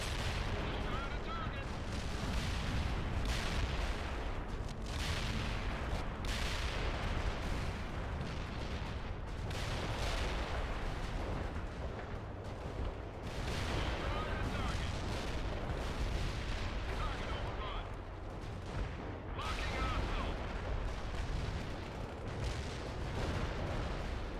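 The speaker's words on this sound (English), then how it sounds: "Using heat rounds against these guys more effective than normal tank rounds" Tank cannon fire with HEAT rounds in the video game World in Conflict, a dense continuous barrage of booming shots and explosions layered over one another, loud and sustained with no quiet gaps.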